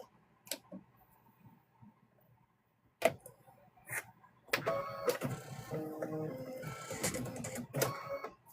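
An embroidery machine stitching Christmas ornaments in white thread gives a few scattered clicks and taps, then settles into a steady, rapid mechanical chatter.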